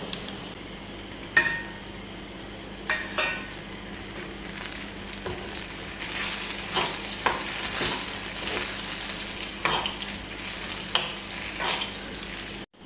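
Onion chammanthi ingredients with tamarind frying in oil in a pan, a steady close sizzle with repeated scraping stirs and light clinks of a spoon against the pan, no talking.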